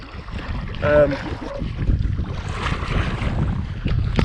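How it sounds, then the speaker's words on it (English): Breeze gusting across open water while kayaking solo on a sunny day, a steady broadband wind rush buffeting the microphone throughout, with a brief voice-like tone near the start. "shame that breeze"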